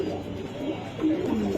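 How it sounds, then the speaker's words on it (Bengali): Red chilli pigeons kept as breeding pairs in a loft in Mirpur, Bangladesh coo in low, throaty, rolling calls that overlap steadily at close range, with no voices. "লাল চল্লি কবুতর"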